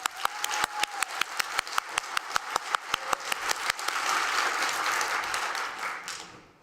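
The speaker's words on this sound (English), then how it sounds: "Are there any learning experts in this room? Then applaud yourself." An audience at a learning-industry conference claps to test an applause meter, starting as sparse, evenly spaced individual claps and swelling into a dense, sustained round of applause before fading out.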